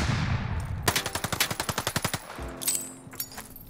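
Rapid automatic gunfire in Call of Duty Vanguard, a steady burst of roughly a dozen and a half closely spaced shots, loud and near, preceded by a whoosh and followed by a deeper thud and scattered clatter.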